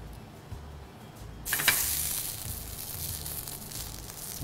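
Chicken shawarma drops into hot oil and sizzles loudly, a steady frying hiss that begins suddenly partway through and continues close by without letting up.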